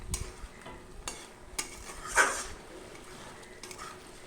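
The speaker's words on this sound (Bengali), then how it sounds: "এর মধ্যে সামান্য একটু জল দিয়ে একটু মাখা মাখা করব।" Bitter gourd curry is stirred in a pan with a splash of water, giving soft scraping strokes, a few clinks of the utensil against metal and a brief sizzle burst midway, fairly quiet overall.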